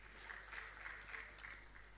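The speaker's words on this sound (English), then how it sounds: "Please keep the applause going." Sustained audience applause at a leadership conference, dense steady clapping from a crowd filling the whole stretch at moderate loudness, with no talk over it.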